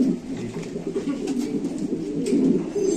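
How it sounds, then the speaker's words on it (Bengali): Mundian pigeons coo close by, a continuous run of low, rolling throaty calls that swell slightly toward the end. "এখানে আছে একজন মডার্ন কবুতর দেখতে পাচ্ছেন আপনারা"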